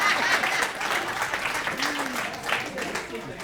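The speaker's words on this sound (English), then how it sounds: "Get up in a round of applause for 2 twins." Applause for twins at a public service award ceremony in Southfield, a dense steady clapping from an indoor crowd throughout, with a voice briefly audible underneath.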